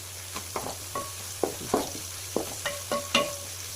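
A handful of curry leaves sizzles in hot oil with golden-fried ginger and garlic for fish pickle. A steady crackle runs under repeated spatula scrapes and stirs against the pan, close and moderately loud, with no talking.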